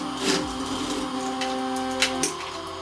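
A sewing machine runs a seam on joggers pants, giving a close, steady motor whine with a fast stitching drone for under three seconds and a couple of small knocks near the end.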